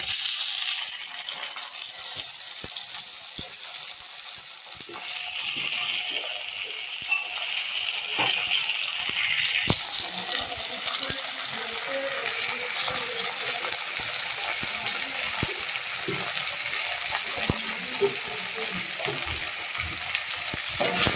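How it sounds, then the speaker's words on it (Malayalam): Chopped tomatoes fry in a hot pan for simple tomato rice, giving a steady, close sizzle with frequent scraping stirs throughout and no talking. "ഇതിലേക്ക് അരിഞ്ഞു വെച്ച തക്കാളി ചേർത്ത് കൊടുക്കാം"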